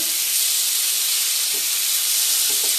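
Bengali-style rajma curry with tomato frying in a pan, giving a steady, close, bright sizzle and hiss with a few faint stirring touches, no talking.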